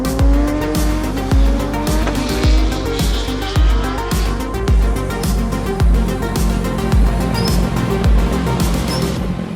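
A motorcycle fitted with Öhlins suspension laps a race track, its engine loud and close with rising revs and repeated gear shifts, one pull after another.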